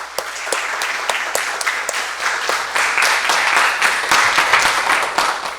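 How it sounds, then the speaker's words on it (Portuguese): Audience applause for nurses at a youth council session, a dense steady wash of many hands clapping that holds throughout, with a few sharper individual claps standing out near the start. "dedicar a esses heróis uma salva de palmas"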